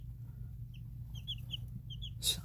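Young chicks cluck and peep softly in short chirpy bursts over a low steady background hum, with one brief louder rustle near the end; no talking.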